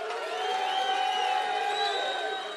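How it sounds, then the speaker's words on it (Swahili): Crowd at a political rally with Kenya's Deputy President Ruto in Kisumu Dala, a sustained wash of cheering and clapping filling the whole stretch at steady loudness, with some voices and whoops mixed in. "pigeni makofi"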